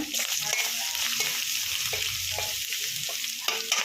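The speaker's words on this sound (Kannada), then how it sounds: "ಸಾಂಬಾರು ಪುಡಿ ಖಾರದ ಪುಡಿ ಅರಿಶಿನ ಇದು ಮೂರು ಹಾಕ್ಕೊಳ್ತೀನಿ ಫ್ರೈ ಮಾಡ್ಕೊಳ್ಳೋಣ" Sambar powder, chili powder and turmeric fry in a hot pan for a spicy ivy gourd stir-fry, a steady close sizzle with spoon stirring and scraping throughout, no talking.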